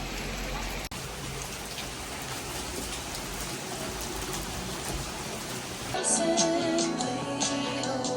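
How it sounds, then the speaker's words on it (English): Rain falls outside on a rainy day in San Francisco, a steady, hissing patter that grows a little louder and sharper near the end. "It's literally raining outside."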